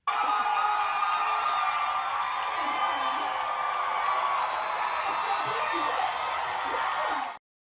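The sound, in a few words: crowd cheering at a rally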